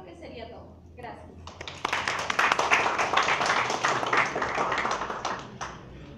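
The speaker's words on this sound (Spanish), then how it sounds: "Un aplauso para todos y todas." Audience clapping after a group presentation in Lima: a few claps build into a dense burst of applause that holds steady and then thins out toward the end, with some voices beneath it.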